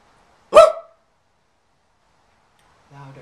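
A person imitates a dog's bark with one short, loud, gruff yelp, followed by silence and then a faint voice at the end.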